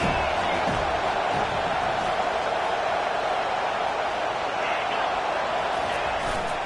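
Steady roaring stadium crowd in a college football video game, a dense continuous wash of cheering and noise that stays loud throughout, with no clear talk on top.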